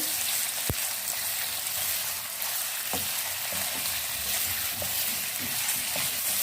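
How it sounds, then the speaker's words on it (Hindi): Chicken pieces fry in an oiled pan with a steady, close sizzle and crackle that runs throughout, broken by a few sharp clicks of a spatula or spoon stirring. "अब इसमें हम चिकन डालेंगे और इसको हम फ्राई करेंगे।"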